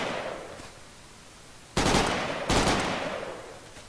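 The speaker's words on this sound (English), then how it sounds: "keep shooting them" Gunfire from the colony-survival video game Rimworld, two sharp bursts of shots cracking out after a quiet stretch, each tailing off quickly, with no talking.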